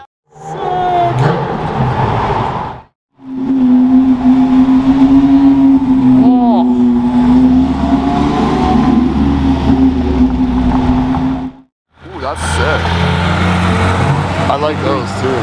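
A TVR Tuscan V8 sports car engine roars loudly and close, in long sustained bursts separated by brief gaps, with a steady droning tone and rising revs, while people talk over it.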